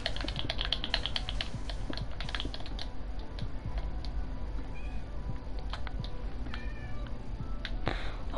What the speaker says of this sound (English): these kittens are so cute.